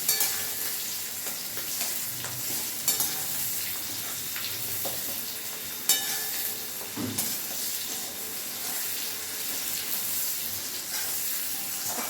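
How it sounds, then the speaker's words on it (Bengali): Fish frying in a pan for a chili fish dish gives a continuous hissing sizzle throughout, with occasional soft stirring clunks and pops, fairly close and without speech. "ভালো করে ভেজে নেবো এটা"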